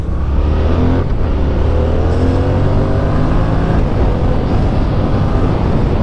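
A Yamaha MT-07 motorcycle accelerating hard, its engine tone climbing steadily through rising harmonics in a loud, continuous, close pull with no talking over it.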